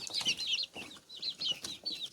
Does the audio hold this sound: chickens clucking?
yes